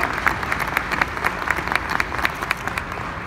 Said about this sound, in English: How about another great round of applause for this fantastically talented band?